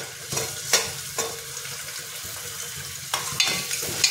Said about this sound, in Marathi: ह्यात आता आपण टोमॅटो टाकणार आहोत।